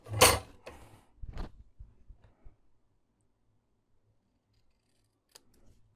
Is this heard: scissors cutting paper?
yes